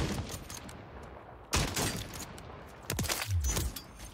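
Gunfire bursts in a Warzone 3 match sound in a few separate sharp volleys, some distant cracks between them, over a rumbling game background.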